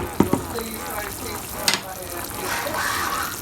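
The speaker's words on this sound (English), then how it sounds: "I'm just gonna stir this up. It's smelling good, but it's very watery, so it needs to continue to boil anyway" A spoon stirs a watery plantain sauce boiling in a pot, giving scraping clinks and knocks against the pot over a steady bubbling hiss, close by with a voice talking at times.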